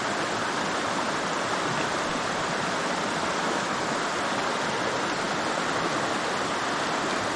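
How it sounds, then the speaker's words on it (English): Rapids on a Smoky Mountains creek give a steady, loud rushing roar with no break for the whole stretch. "The flow of this creek right now is just absolutely perfect."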